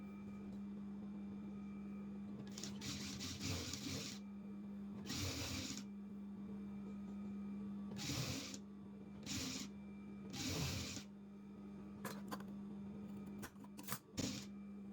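A sewing machine stitches a dress sleeve in several short whirring runs separated by pauses, over a steady low motor hum, close and moderately loud with faint handling noises between.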